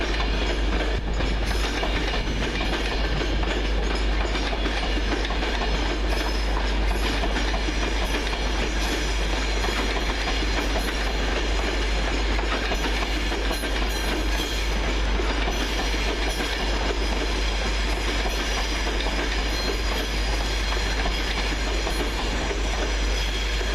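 A Virgin Trains class 390 Pendolino, unit 390.148 "Virgin Harrier", passing at Carlisle on a London Euston to Glasgow Central service: steady, loud rolling roar with clickety-clack of wheels over rail joints and a faint hiss throughout.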